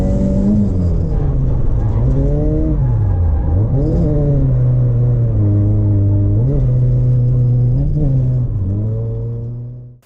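A Nissan S14 street project car revs hard on a handbrake drift entry at Slide Factory Grange, a loud close engine roar that climbs, bounces off the rev limiter in second gear and surges repeatedly before fading out.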